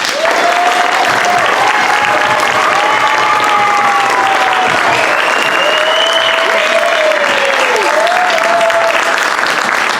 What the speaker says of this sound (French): Donnons-leur une dernière main d'applaudissements.